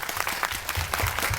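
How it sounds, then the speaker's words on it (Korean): Brief burst of audience clapping at a Korean animation director's master class, a crowded patter of hands with a few louder claps standing out near the end. "여러분 박수 한번 부탁드립니다."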